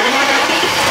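An old Bentley barn find with many faults idles close by, its engine a steady, loud drone with a slightly rough, sawing edge.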